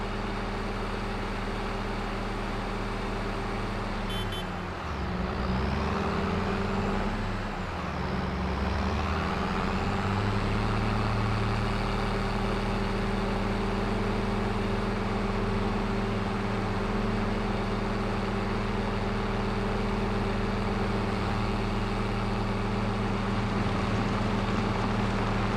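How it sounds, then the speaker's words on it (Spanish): A small, basic tractor in Farming Simulator 22 drives at low speed, a steady synthetic engine drone with a brief shift in pitch near the start, heard alone. "Este es un tractor, como les decía, bien básico, pequeño, por eso no anda más de 25 kilómetros por hora."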